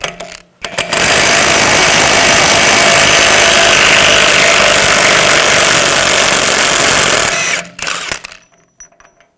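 A power impact tool with a 36mm 12-point socket removes the rear axle nut on a 2007-2013 BMW X5, a loud continuous whirring hammer lasting about seven seconds before stopping abruptly, followed by faint clicks.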